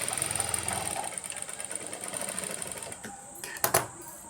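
A sewing machine stitching a lining blouse, running in a fast steady chatter close by, then pausing near the end with a few sharp mechanical clicks.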